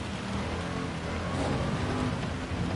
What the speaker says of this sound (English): With how much it is still raining